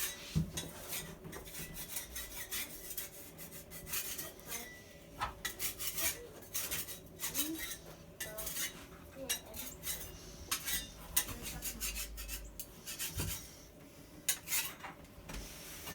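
Cloth or sponge wiping away excess adhesive across Dumawall groutless wall tile during installation, giving steady close scraping and rubbing strokes with brief clicks, and no talking.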